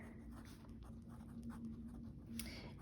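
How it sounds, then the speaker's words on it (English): A pen or pencil scratches on a notebook page in short, close strokes and scribbles, quiet and alone, while math notes on fractions are written out. "I'm going to write that here."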